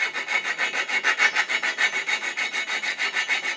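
A hand file scrapes back and forth in the inside corners of a chef knife's tang slot, cleaning up a rough bandsaw cut: steady rhythmic rasping strokes, close and bright, about five strokes per second, with no voices.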